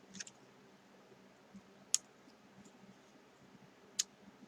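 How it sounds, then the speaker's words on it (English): Craft snips trimming a small piece of paper, two crisp isolated clicks about two seconds apart, close and quiet against a faint room background. "I am going to go ahead and take my snips and go ahead and trim this piece off."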